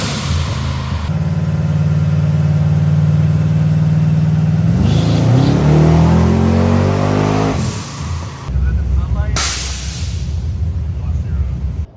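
LS V8 with a twin turbo kit sized for around 700 horsepower, revving on a dyno during tuning: a loud, steady high idle rises into a sweeping rev, then drops and climbs again, with voices faintly underneath.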